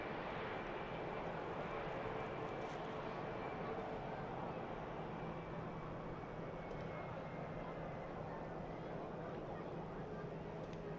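Egypt Air Airbus A321neo airliner at Manchester Airport, a steady, fairly faint engine roar with wind noise, continuous and unbroken.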